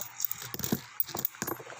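Coins clink and jingle in short bursts as they are counted and handled by hand, a series of small metallic taps spread unevenly across the moment, fairly close and moderately quiet.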